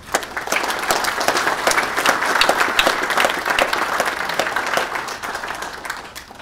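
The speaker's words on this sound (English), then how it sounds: "So round of applause for her." Audience applause at a panel discussion: sustained, dense clapping from a crowd throughout, steady and fairly loud before tapering off near the end.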